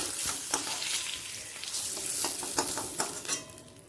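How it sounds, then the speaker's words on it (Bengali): Eggs fry in mustard oil in a pan for an egg curry, a steady close sizzle with scattered spatula scrapes and taps throughout, no voices. "আমি হালকা লাল করে ভেজে নিলাম আপনারা একটু ডিপ ব্রাউন করেও ভাজতে পারেন"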